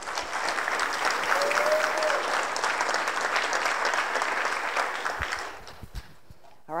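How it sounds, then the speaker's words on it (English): Audience applause after a presenter is introduced, sustained steady clapping from a crowd for about five seconds before it tapers off. "Round of applause for Michelle Thompson, please."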